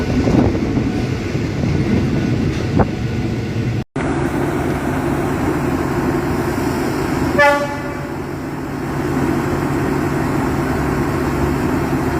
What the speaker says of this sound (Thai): ขบวนรถธรรมดาขบวนที่ 276ก็ออกจากสถานีรถไฟป้ายหยุดรถพญาไทเป็นที่เรียบร้อยแล้ว